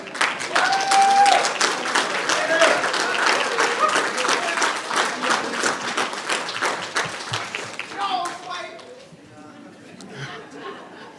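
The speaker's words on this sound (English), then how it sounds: "Stand up and give these people a round of applause." A crowd at an aviation graduation ceremony claps loudly in a dense burst with cheering and chatter mixed in, the applause thinning out and fading toward the end.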